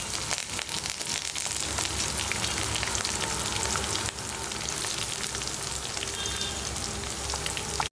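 Onion pieces with green chilies and coriander leaves sizzle steadily in hot oil in a curry pan for aloo baingan matar, a dense continuous frying hiss close up.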